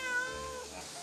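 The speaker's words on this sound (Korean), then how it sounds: "고양이 있네?" A cat gives a single close, clear meow that slides downward and fades, heard at a rural home restaurant in Dangjin, Korea, with no talking.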